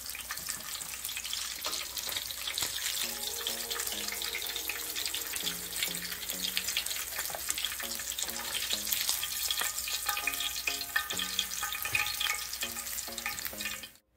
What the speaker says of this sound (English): When you're frying your fish, make sure there's space between the fish so that they don't join together.